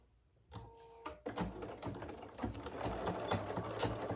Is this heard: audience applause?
no